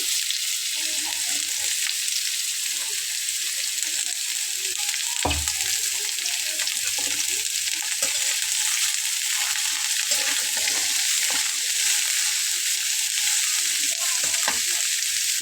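Vegetables for a quick cauliflower snack fry in a hot pan, giving a loud, continuous sizzle with a sharp clatter of stirring partway through and scraping sounds throughout.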